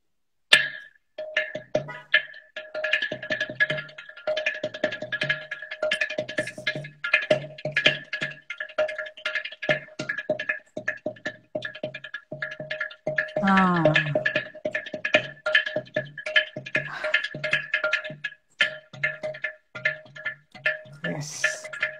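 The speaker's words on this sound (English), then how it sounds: "lift the gadam to our stomach and we have to push it. Then that sound is amazing sound." A ghatam clay pot is struck in quick, rhythmic patterns of sharp taps and ringing tones, with a wobbling bent-pitch effect in the middle, played close and fairly quiet.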